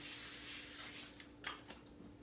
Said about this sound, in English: I'm just gonna spray a little bit inside so the cookies do not stick.